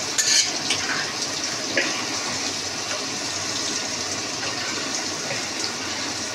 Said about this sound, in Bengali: ডালটা মধ্যে জল দিয়ে দিলাম।